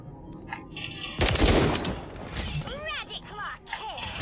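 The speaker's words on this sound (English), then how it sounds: "Gunfire." A sudden loud burst of rapid gunfire with metallic clatter in the video game Call of Duty: Modern Warfare 3, followed by quieter game sound effects and a brief voice.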